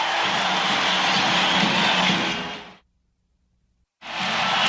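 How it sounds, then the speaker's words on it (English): Arena crowd at America West Arena during Game 6 of the 1993 NBA Finals, Phoenix Suns against the Chicago Bulls, a loud, dense roar of cheering that cuts out abruptly, then surges back at full volume. "The crowd on its feet here at America West Arena."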